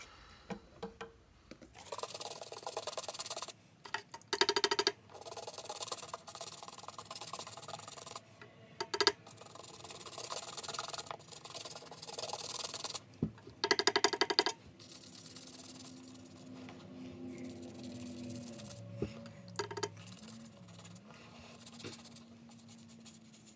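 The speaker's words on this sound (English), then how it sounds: "wipe the bottoms and the rubber parts on the side of the shoe, avoiding the rubber" Rag wiping and scrubbing a shoe's sole and rubber sidewalls: close, irregular bursts of dry rubbing and scratching, then a quieter stretch with a faint tonal hum underneath, no speech.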